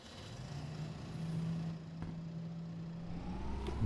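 A small tractor in the Farming Simulator 22 video game, its engine humming and rising steadily in pitch as it revs up, a moderate mechanical drone with no talk over it.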